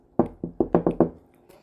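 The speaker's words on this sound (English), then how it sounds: "he receives a knock on the door" Six knocks on a dorm room door land in a quick, slightly uneven sequence, close and crisp in an otherwise quiet room.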